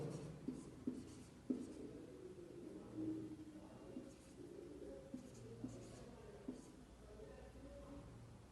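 Faint scratching strokes of writing on a board during a physics lesson on current electricity, quiet and intermittent, with pigeons cooing softly in the background.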